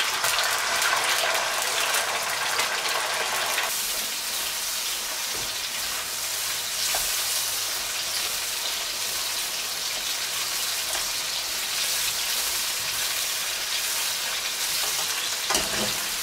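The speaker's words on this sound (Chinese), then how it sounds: "把虾也给它炸一下" Shrimp deep-frying in hot oil: a dense, continuous hiss and crackle of bubbling oil holds steady for the whole stretch, close and even, with a couple of faint knocks and no talking.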